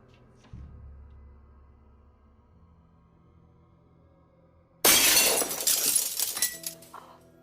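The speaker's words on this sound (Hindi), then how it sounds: "शीशा तोड़ दिया।" A glass mirror shatters with a sudden loud crash and a burst of bright tinkling shards that trail off over a couple of seconds, after a quiet stretch with a low thud.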